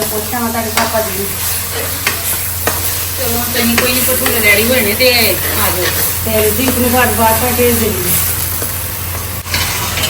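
Onions fry in mustard oil in a home kitchen pan, a steady sizzle under stirring clatter, with a person speaking over it throughout.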